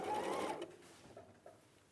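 A sewing machine runs in a fast, whirring burst for about half a second, then fades to quiet mechanical taps and a faint hum.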